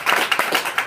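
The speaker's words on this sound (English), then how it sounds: "I don't say that for you guys' applause." Audience applause in a seminar hall, a dense crowd clapping steadily and fairly loud with a few stronger bursts, no voices on top.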